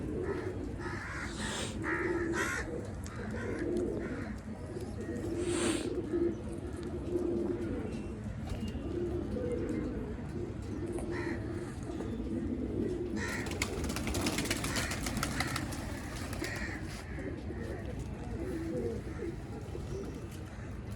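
Pigeons coo repeatedly in soft, low rounded calls, with crows cawing now and then amid a steady outdoor background.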